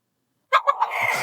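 A fighting rooster lets out a sudden burst of harsh squawking and clucking after silence, close and fairly loud, with no talk over it.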